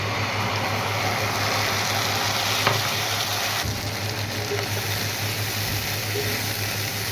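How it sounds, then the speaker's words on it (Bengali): Mustard paste and browned onions for mustard hilsa fry in a pan with a loud, continuous sizzle and faint stirring scrapes, steady throughout with no talking. "একদম ভাজা ভাজা করে কষিয়ে নেব"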